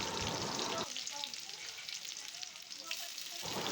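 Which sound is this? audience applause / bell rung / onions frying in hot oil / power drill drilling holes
onions frying in hot oil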